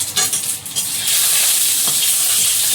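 Loud, steady sizzling of dried red chilli and panch phoron dropped into hot oil in a wok, a hissing wash that swells and holds without any talking.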